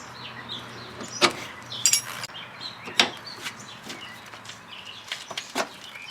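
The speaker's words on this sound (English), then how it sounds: "we're going to put this back in the joint so we can loosen this nut" A wrench works loose a tie rod nut on a 1999 Pontiac Grand Prix during an inner tie rod end replacement, giving several sharp metallic clicks and clanks spaced irregularly, close and moderately quiet with no talking.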